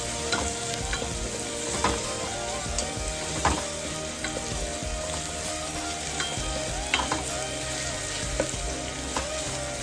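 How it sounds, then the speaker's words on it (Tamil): Banana stem vegetables sizzle steadily in a hot pan with turmeric, with occasional scraping and stirring knocks from a utensil, close and moderately quiet. "இது கொஞ்சம் நல்லா வதங்கணும்."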